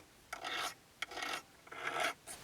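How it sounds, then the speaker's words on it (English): A file rasps across the joint of a hand-forged pure 24k gold ring in four short, faint strokes, heard alone with quiet gaps between them. "And take it down to the file."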